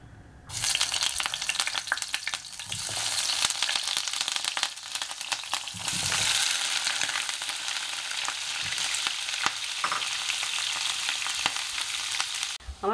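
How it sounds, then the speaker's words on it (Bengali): Paneer pieces frying in ghee with refined oil in a pan, a loud, steady crackling sizzle running nearly the whole time with occasional stirring knocks and no talk. "আমি একটু পনিরটাকে প্রথমে ভেজে নেব।"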